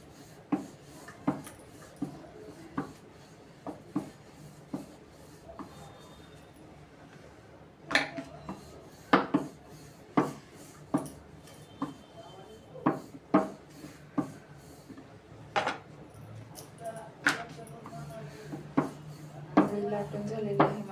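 Stuffed peanut-jaggery poli dough being rolled out with a rolling pin, giving a steady run of soft wooden knocks and thuds, close and moderately loud, with faint rubbing between them.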